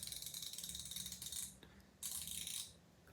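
A Snap-on ratchet spins with a fine, fast, even clicking, two quiet close bursts separated by a short pause, smooth and light in tone with nothing else heard.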